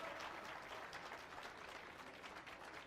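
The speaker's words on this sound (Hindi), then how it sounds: "यदि आनंद आया हो तो ताली तो बजा दीजिए।" Audience at a religious gathering in Nehru Nagar, Bhopal, applauding in a dense, even round of clapping that holds steady throughout, with no speech over it.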